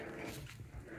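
A chihuahua puppy growls and pants close by, a short low rumbling burst mixed with quick breaths, fairly quiet and alone.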